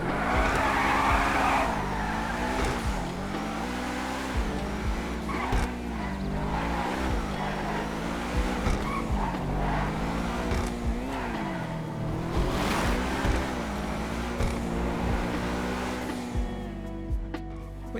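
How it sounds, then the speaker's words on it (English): A large-engined video game sports car, the GTA Truffade Thrax modeled on the Bugatti Divo, roars loudly, revving up and down over and over, with tires squealing at times and no talking. "It's quite a low and cultured noise like you might expect from such a large engine."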